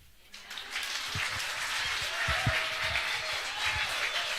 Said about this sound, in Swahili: Makofi mazuri hapo, makofi mazuri.